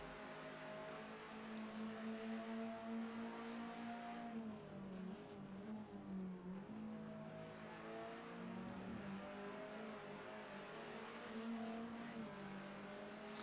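Onboard engine of a GT race car at Donington Park in a racing simulator, a steady high revving drone that drops briefly through a shift or braking, then climbs again, close and continuous.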